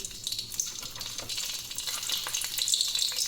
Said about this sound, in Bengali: দেখো লঙ্কা দুটো আমি দিয়ে দিলাম।